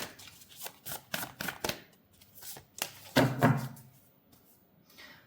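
Tarot cards are shuffled and drawn from a deck, giving a run of quick crisp riffling snaps near the microphone, then a softer rustling handful and a faint slide as cards come free; quiet room, no voice.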